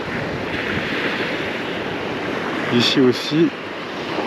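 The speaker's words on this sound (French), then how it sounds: "on a une très grande plage qu'on voit ici parsemée de brise-lames." Surf rolls onto the long beach at Morondava, Madagascar, lined with breakwaters: a steady, loud wash of waves mixed with wind noise, and someone briefly talks over it near the end.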